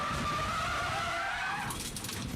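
TVR Challenge race car at Castle Combe or Oulton Park, tyres screeching in a long sliding skid through a spin after contact, loud and close for under two seconds before fading into engine and track noise.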